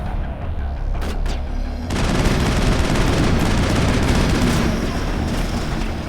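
Gunfire in the video game Mass Effect: a few sharp shots, then a dense, continuous burst of loud rapid fire and impacts that carries on to the end.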